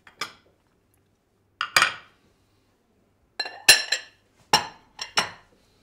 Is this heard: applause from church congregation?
no